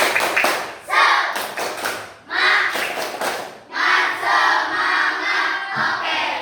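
Fifth-grade pupils in an Islamic education class perform a spirit clapping chant, in loud group bursts of rhythmic clapping and shouting that are separated by short pauses and end in a longer final burst.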